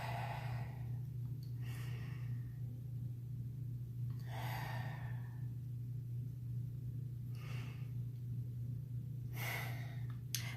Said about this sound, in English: I'll take a few deep breaths.